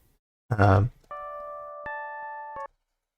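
An electric piano plugin with a mellow, bell-like tone plays a few sustained notes, one struck after another in quick succession with clean decays, following a brief spoken word.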